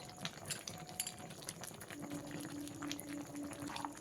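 Shukto, a Bengali mixed vegetable curry, simmers in a pot with soft bubbling and faint pops and clicks, quiet and close, with no talk.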